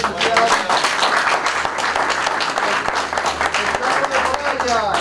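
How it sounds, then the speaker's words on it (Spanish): Crowd applause opening a beach football course at a federation event, dense steady clapping from many hands filling the whole stretch, fairly loud and close, with some voices mixed in underneath. "con un aplauso vamos a iniciar"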